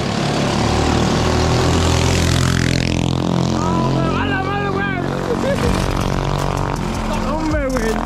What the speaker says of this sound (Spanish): Aquella moto corre resistísimo